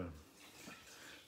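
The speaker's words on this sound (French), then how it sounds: "Je rince mon riz." Rice for an Asian-style egg and vegetable dish is rinsed under running tap water in a kitchen: a soft, steady, faint stream of water with light sloshing.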